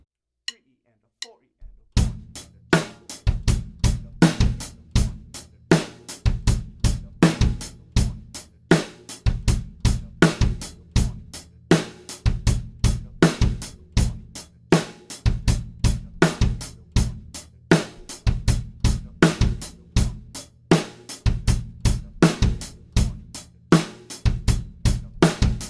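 A drum kit plays a fast mixed eighth- and sixteenth-note beat: steady, dense hi-hat strokes over punchy kick and snare hits, loud and close, running without a break for the whole stretch.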